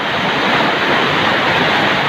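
Heavy rain pouring down with wind in Pangantucan, a loud, continuous roaring hiss that stays steady throughout.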